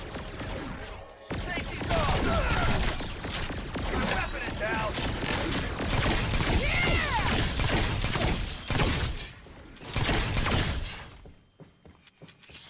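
A character's gun fires in rapid bursts of gunfire during Agents of Mayhem gameplay, with dense, loud, sustained shots and mechanical clatter that briefly drop off near the end.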